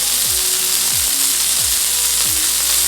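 Burgers and butter-filled portobello mushrooms sizzling on a Camp Chef FTG600 griddle, a loud, dense, continuous hiss close up with faint rhythmic low thumps underneath, no voices.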